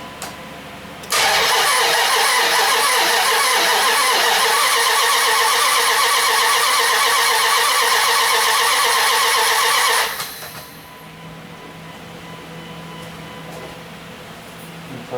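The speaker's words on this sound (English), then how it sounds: "Crank this over and see if we get some oil pressure up." A car engine cranks steadily with the fuel pump fuse removed, the starter turning it over loudly and continuously for about nine seconds before stopping, leaving a low hum, with no talking.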